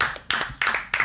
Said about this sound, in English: a round of applause for Jared from Subway, J Train